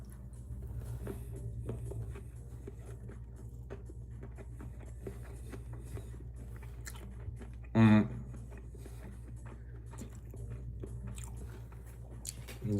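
Crispy salmon skin being eaten, with soft crunching and chewing over a low steady background hum, faint and close, plus one brief louder sound midway.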